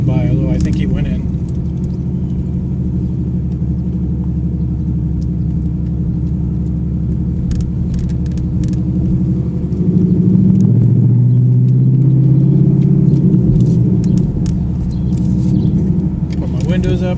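A 2015 Ford Mustang GT with Flowmaster Outlaw axle-back exhaust rumbles steadily with a deep low drone, swelling louder midway as the engine pulls, with occasional faint clicks over it.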